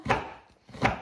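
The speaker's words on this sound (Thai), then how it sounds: "เป็นตะไคร้ที่ค่อนข้างจะแข็งนะคะไม่รู้จะหั่นได้ไหม" A knife chops through hard, frozen lemongrass on a board, two sharp, solid chopping strikes about three-quarters of a second apart, close and distinct.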